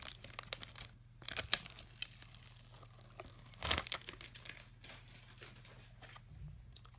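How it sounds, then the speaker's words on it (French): Double-sided adhesive is peeled off the back of a replacement touchscreen glass for a Polaroid 101B tablet, making faint, close crinkling and tearing with a few louder peeling bursts. "On retire l'adhésif double face."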